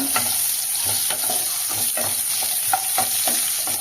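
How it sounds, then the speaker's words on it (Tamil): Chopped small onions (shallots) are sautéed in a pan, with a close, steady sizzle broken by rhythmic spoon scrapes as they are stirred, and no talking. "வெங்காயம் நல்லா வதக்கிக்கோங்க"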